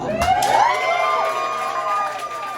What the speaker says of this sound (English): I'll take that applause for something I just had to do